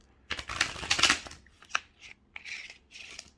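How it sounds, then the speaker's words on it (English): Playing cards being shuffled in a quick riffle, followed by several short, crisp bursts as the deck is bridged and squared, close up. "Got to shuffle one more time."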